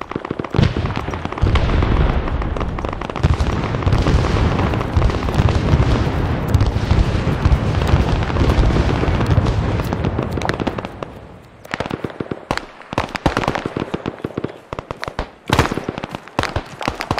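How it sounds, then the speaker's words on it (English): Incoming mortar fire in a war video game, loud close explosions and crackling blasts rolling continuously at first, then breaking into separate sharp bangs and bursts. "Mortars are coming in."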